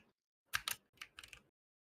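Computer keyboard keys clatter in a short burst of about six crisp clicks in two quick clusters, close and fairly quiet against near silence.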